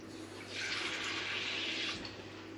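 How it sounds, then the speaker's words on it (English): Water pours into a pan for a pear crumble, a steady rushing splash lasting about a second and a half before it stops, close by with no talking. "it's going to need a bit more water"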